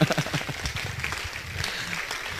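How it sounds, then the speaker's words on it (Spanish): A church congregation clapping during a Spanish-language sermon, brief and fairly loud, fading into a diffuse crowd murmur. "Dale un aplauso al Señor, bendito sea el Señor."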